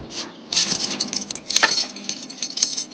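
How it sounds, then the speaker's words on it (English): Keys jangle in short bursts of bright metallic clinks, close and fairly loud, with no talking. "Keys."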